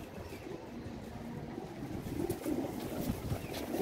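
Teddy pigeons cooing in a loft, soft low burbling coos repeating under a faint background hum, close by and gentle with no talk.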